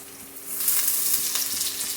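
Onions with a little sugar frying in a pan, a steady close sizzle and crackle with faint stirring scrapes, no talking.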